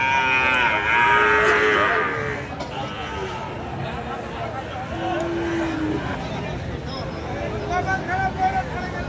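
Sahiwal calves around eight to ten months old mooing at a busy rural cattle market in Joypurhat, several drawn-out lows close and farther off amid crowd babble and speech.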